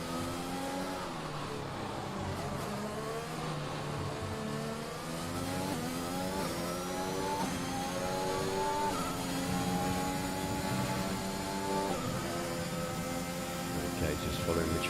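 Formula One cars race through the Baku street circuit in Azerbaijan in the F1 2021 video game, engines whining and revving continuously through gear changes for the full stretch while commentary voices run over them.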